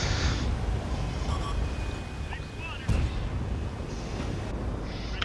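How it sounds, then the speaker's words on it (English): Tank cannon fire in the World of Tanks video game, with a German Maus heavy tank shooting at a T95 on the Karelia map: a single sharp boom about three seconds in, standing out over continuous rumbling battle noise. "Get a nice shot into the lower plate of that T95."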